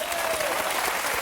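Dense, sustained audience applause for a singer at a French television tribute evening, a full roar of many hands clapping continuously, with a faint voice briefly audible underneath.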